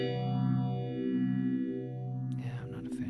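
A guitar played through the fuzzy rock distorted preset of a Boss GX-10 multi-effects unit, heavily distorted with sweeping, phaser-like harmonics, sustaining loudly for about two seconds before choppier strummed chords.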